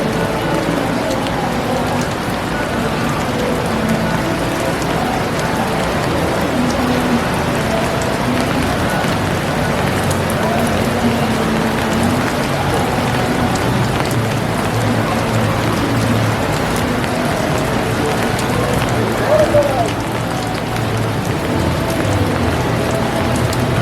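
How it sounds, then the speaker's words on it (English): Heavy rain pours down outdoors at a Universal theme park, a loud, continuous, dense hiss of drops on surfaces that fills the whole stretch without letting up. "So it is pouring right now."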